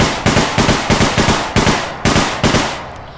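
The PDW-57 Stiletto gun fires in the APB Reloaded video game in quick bursts of loud, sharp shots with short pauses between groups.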